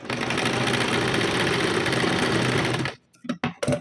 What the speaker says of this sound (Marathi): व्यवस्थित माप घेतल्यानंतर शोल्डर उतरत नाही, त्यामुळे मी अर्धाच इंचावर इथे टिप मारत आहे.